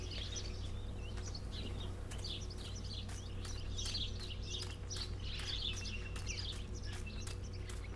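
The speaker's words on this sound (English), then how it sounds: "Here's some birds." Birds chirp and tweet in short, scattered bursts over a low, steady hum in the daytime farm setting of the video game Martha Is Dead, faint and somewhat distant.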